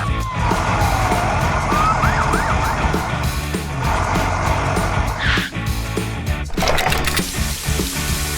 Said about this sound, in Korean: 근처에 있던 소방차가 사고를 발견한다.